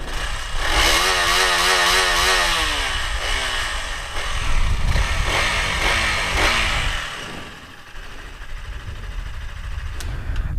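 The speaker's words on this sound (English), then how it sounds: "so this is how the exhaust sounds." A KTM Duke 200 BS6 motorcycle engine revs up and down several times, loud and close, with a throaty exhaust note settling back toward idle.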